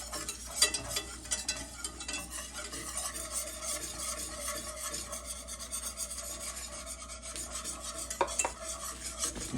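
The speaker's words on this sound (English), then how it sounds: "once the butter is melted, you want to whisk in some flour" A whisk scrapes steadily around a pan as flour is worked into melted butter to make a roux, a soft continuous rasping with faint sizzle underneath, close and fairly quiet, with no talking.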